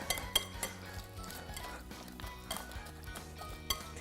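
A utensil mixes chopped hard-boiled egg with other ingredients in a bowl for a breakfast dish, making quiet, irregular clinks and scrapes against the bowl with no talking.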